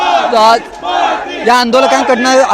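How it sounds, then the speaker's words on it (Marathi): A large crowd of protesters celebrates at Azad Maidan in Mumbai with loud, rhythmic chanting and shouting. The voices rise together in repeated bursts. "हा सगळा जल्लोष जो आहे हा आपण पाहतोय की आझाद मैदानमध्ये जो आहे हा साजरा केला जातोय"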